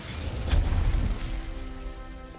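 An Incendio fire spell cast in Hogwarts Legacy erupts as a short low whoosh and burst, swelling quickly and fading into a rumbling tail.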